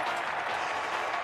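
A baseball stadium crowd cheers and applauds during the mascot race at a Cleveland Guardians versus Toronto Blue Jays game, a dense, steady roar of clapping and cheering with no gaps.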